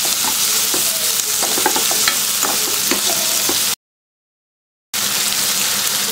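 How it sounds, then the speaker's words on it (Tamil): Green chillies sauté in a pan with a steady, close sizzle and crackle, broken by a brief total dropout before the frying sound resumes. "நல்லா வதக்கிக்கலாம்."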